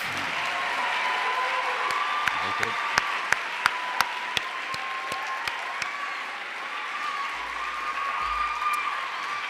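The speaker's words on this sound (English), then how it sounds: "One round of applause for all 12." Steady applause from a sizable audience at a poetry recitation competition fills the room, with scattered louder claps standing out and a faint murmur underneath.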